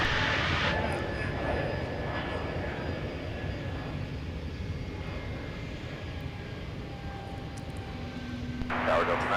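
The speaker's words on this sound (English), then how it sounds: "Listen to those Pratt & Whitney engines." Jet airliner with Pratt & Whitney engines at Minneapolis–St. Paul airport, a steady loud engine roar that rumbles on throughout, with brief speech at the start and end.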